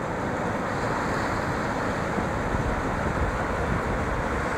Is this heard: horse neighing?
no